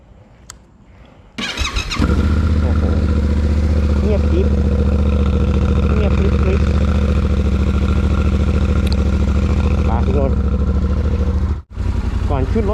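A Yamaha Tenere 700 adventure-touring motorcycle starts up after a quiet moment, then idles with a loud, close, steady rumbling throb before the engine cuts off abruptly near the end.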